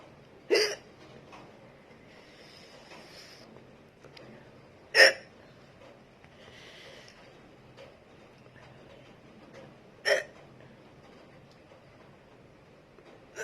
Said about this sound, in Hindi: फाइनली हिचकी आ गई